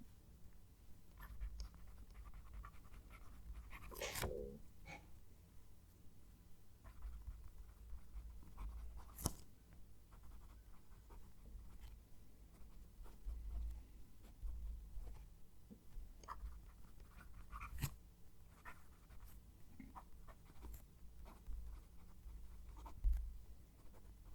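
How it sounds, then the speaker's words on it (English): A fountain pen scratches across notebook paper while a sentence is written, soft intermittent strokes and taps spread over the whole stretch, faint and close with a low background hum. "I'm going to write a sentence, so I'll move the mic."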